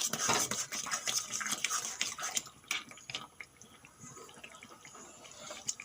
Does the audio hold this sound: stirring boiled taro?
yes